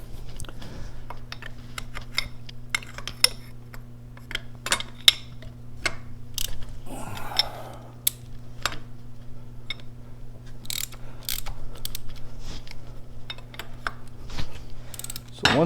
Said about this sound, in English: we're going to use our 1/4 inch socket or a 7/8 nut, and we're going to go ahead and loosen that.